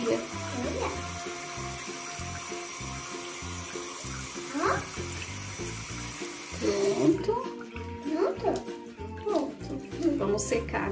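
Cold water pours and splashes over the hair of a Baby Alive doll, a continuous running stream that stops partway through, with faint voices in the background.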